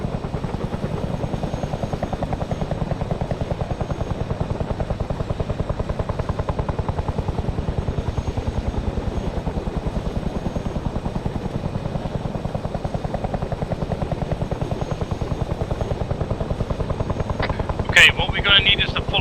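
Steady, close helicopter rotor thud from a flight in the military video game ARMA 3, droning without a break for the whole stretch, with a short burst of higher-pitched sound near the end.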